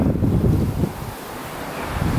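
Ocean surf washing onto a sandy beach with the tide in, heard as a steady low rush of waves mixed with wind buffeting the microphone, fairly loud and continuous with no voices.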